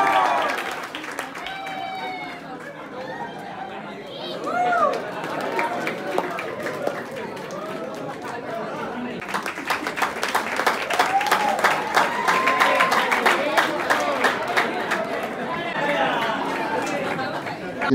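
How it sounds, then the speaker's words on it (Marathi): Audience applause at a Shaurya Academy Ganeshotsav traditional day competition, a steady indoor crowd clapping for about eighteen seconds that grows denser and louder toward the end, with chatter and voices mixed throughout. "त्यांच्यासाठी देखील जोरदार टाळ्या वाजवायच्या आहेत"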